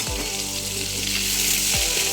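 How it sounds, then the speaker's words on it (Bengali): Fish fries in a pan at home, a strong, continuous close sizzle with a low hum underneath, steady from start to finish. "মাছ ভাজছি"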